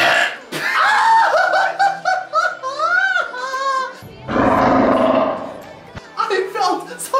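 A man lets out a long, loud burp amid laughter and chatter between friends, with giggling and voices before and after it.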